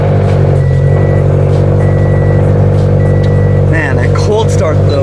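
A Subaru BRZ with an aftermarket exhaust idles loud and close after a cold start as it backs out, deep steady rumble with a repeating reversing beep and a voice near the end.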